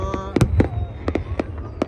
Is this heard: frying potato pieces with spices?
no